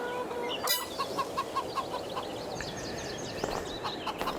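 Chickens cluck in a chicken coop in the farming video game Farming Simulator 22, with repeated short clucks and calls over a steady ambient bed and a brief louder squawk.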